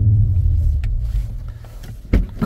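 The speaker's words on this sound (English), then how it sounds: "Let's put the car on." BMW M340i xDrive engine starting up, a low, steady rumble that swells with a brief surge near the end, close and fairly loud with no talk over it.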